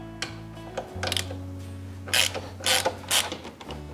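A ratchet undoing the bolts on the left-hand pillion foot peg of a Peugeot XP400 GT scooter, heard as repeated close clicking bursts of the pawl with a steady hum underneath and some pauses between turns.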